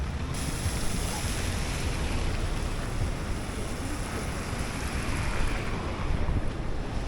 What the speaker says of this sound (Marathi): ह्या घाडेश्वर डॅमचं पाणी तो डॅम भरल्यानंतर पाणी खाली जे वाहतं आहे ते पाणी हे दिसतं आहे आपल्याला